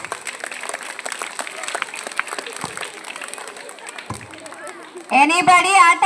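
An audience claps steadily for a kids' karate demonstration at Viswabharathi, a dense patter of many hands lasting several seconds before a loud voice announces over it.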